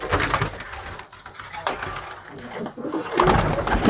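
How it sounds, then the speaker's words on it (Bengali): A young home-bred male pigeon coos in repeated low, throaty bursts close by, mixed with scuffling and handling noises and light background activity. "এটা মেল পায়রা আছে, বাড়িরই বাচ্চা পায়রা, বড় করা হয়েছে"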